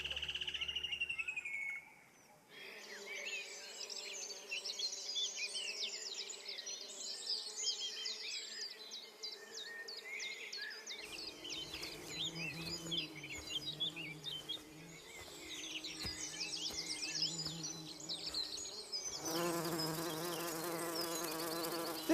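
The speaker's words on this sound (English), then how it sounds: "This garden is filled with the sound of the buzzing of bees." Bees buzzing among flowering plants in a garden, a steady layered hum of many insects close by, joined by bright bird chirps and tweets, with no voices.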